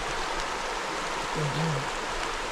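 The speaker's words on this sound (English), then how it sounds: "There is a little stream going under our bridge, but it's definitely rushing more than what we're used to." A small stream runs high and fast under a footbridge after heavy water, giving a steady broadband rushing wash, close and continuous, with a brief low murmur partway through.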